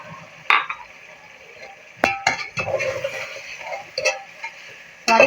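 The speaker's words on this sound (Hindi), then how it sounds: "सारी चीज़ों को मिक्स कर देंगे।" A spoon scrapes and clinks against a metal pot while pulao ingredients, yogurt and spices are stirred together: sharp intermittent metallic knocks and clatters close by, with brief scraping between them.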